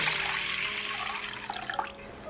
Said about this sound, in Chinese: 挑好之后，再加入适量的清水。